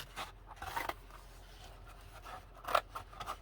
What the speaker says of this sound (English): this is an envelope, and you just cut it open